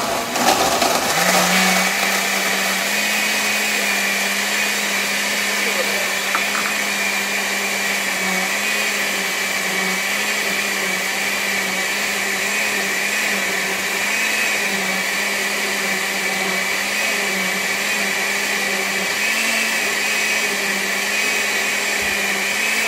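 A blender runs continuously, blending a post-workout protein shake with ice. It starts with a crunching burst, then settles into a loud, steady motor whine that holds close and unbroken for over twenty seconds.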